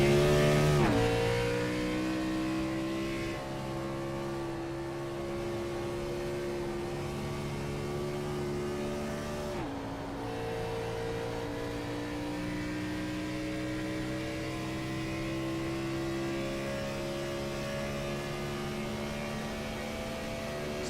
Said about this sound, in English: These guys are going to be absolutely flying around this track in these Gen 4s.